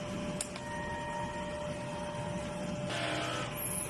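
Printer head cleaning cycle, a steady motorized whir with faint tonal hum, a short click near the start and a brief rise of pump noise toward the end, with no talking.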